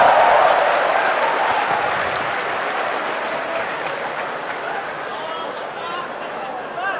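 An audience applauds during a question-and-answer session with Ustadz Abdul Somad, a thick wash of clapping that starts loud and slowly tapers off over about seven seconds.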